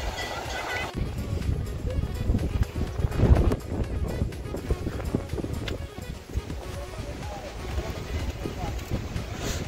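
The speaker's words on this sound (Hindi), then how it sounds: "हवा चल रही थी बहुत तेज" Strong wind buffets the microphone in rough gusts at the Maa Girija Devi temple, with faint voices talking underneath.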